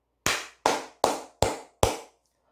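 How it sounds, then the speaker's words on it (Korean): Five sharp, evenly spaced hand claps, loud and close, each ringing briefly before the next, during a Korean stock-market broadcast celebrating Samsung Electronics' third-quarter earnings. "박수 한번 크게 치고 가도록 하겠습니다"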